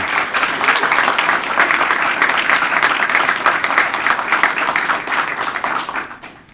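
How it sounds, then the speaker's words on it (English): Steady, dense applause from an audience honoring a retiring university athletics vice president fills the room at full strength, then fades away in the last half second. "Let's give him a round of applause, please."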